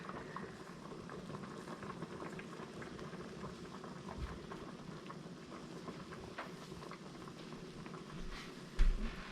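Squirrel dumplings dusted with flour simmer in a pot, giving a continuous low bubbling patter that holds steady throughout, with a brief louder bump right at the end.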